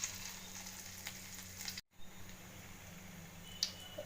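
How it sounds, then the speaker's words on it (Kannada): Onion and coriander-seed bhaji batter dropped into hot oil, giving a faint, steady frying sizzle with a momentary drop-out and a small pop later. "ಎಣ್ಣೆ ಕಾದಿದೆ ಅಂದರೆ ಸ್ವಲ್ಪ ಸಾಂಪಲ್ ಹಾಕಿ ನೋಡೋಣ"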